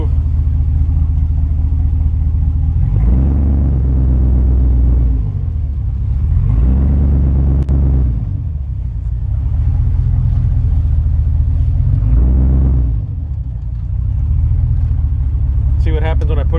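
1968 GMC truck body on a 2500HD chassis idling loud and close, a deep steady engine rumble that swells and eases a few times, with someone talking over it.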